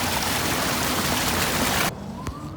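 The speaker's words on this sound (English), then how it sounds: "Approaching the waterfall." Waterfall in Central Park, New York City, a loud broad rushing roar of falling water that cuts off sharply near the end, leaving quieter background sound.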